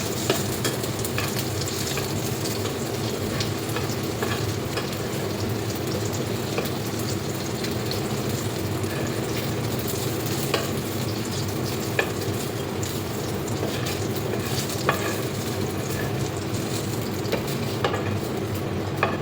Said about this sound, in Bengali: এখানে মরিচ আর রসুন বেজে নিলাম।